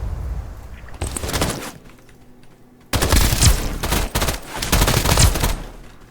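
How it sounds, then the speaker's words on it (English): An electrified MP gun firing in the video game Escape From Duckov, rapid automatic bursts with crackling zaps, a short burst, a pause, then longer sustained loud volleys close up. "So the electrified MP."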